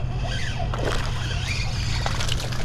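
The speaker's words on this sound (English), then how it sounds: "I heard the splashing" Water splashes and sloshes irregularly nearby as a hooked bass thrashes at the surface, over a steady low background rumble.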